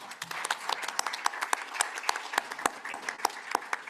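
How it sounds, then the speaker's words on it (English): Sparse applause from a symposium audience, individual hand claps ringing out clearly and fairly quietly, without talk. "Can we give them a big hand of applause?"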